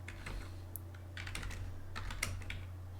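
Keys clatter in quick, uneven bursts as a few short commands are typed on a computer keyboard, close and fairly quiet over a steady low electrical hum.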